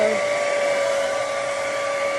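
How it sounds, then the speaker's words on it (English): A hair dryer blows steadily nearby, a constant loud whooshing hum with a high whine, unbroken throughout. "I'll just take the hair dryer and finish it up like this."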